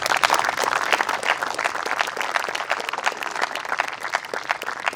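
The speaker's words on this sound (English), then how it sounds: "please give him a huge round of applause" A crowd at a dinner event applauds steadily, dense clapping sustained at an even level throughout with no voices on top.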